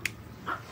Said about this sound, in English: Sorry, Willie's barking.